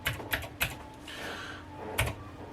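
Someone types on a computer keyboard, a few sharp key clicks in an uneven rhythm with a softer rustling stretch between them, close and fairly quiet, with no voices.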